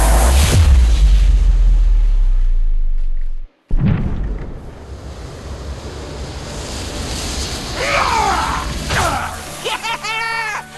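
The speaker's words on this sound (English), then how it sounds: "there's a big explosion coming" A big explosion in a Sonic video game: a deep, loud boom and rumble that cuts out abruptly, then a wind-like roar follows, with electronic chirps and sweeping tones toward the end.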